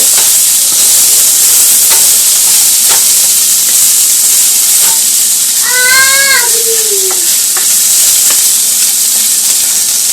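Steady broadband hiss of food sizzling in a pan throughout, with a few faint clicks and a brief higher-pitched squeal in the middle.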